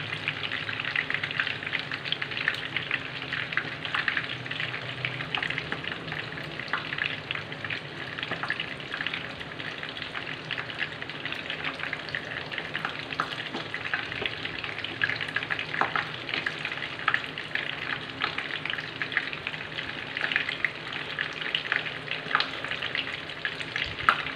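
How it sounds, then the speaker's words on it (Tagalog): Breaded milkfish (bangus) fries in hot oil with a steady, dense sizzle and crackle that stays close and even throughout, with no talk over it. "lutuin pa natin ng konti hanggang medyo mag-crispy pa siya"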